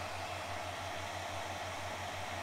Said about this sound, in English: I'm just going to give it a helping hand here with my hairdryer.